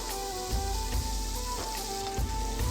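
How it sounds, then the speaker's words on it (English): Oil sizzles and crackles steadily as gulab jamun dough balls fry, with faint tonal music playing underneath. "Now you can see as we are frying them, the color is changing"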